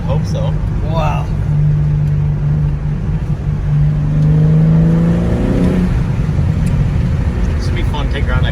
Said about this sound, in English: You hear the turbo?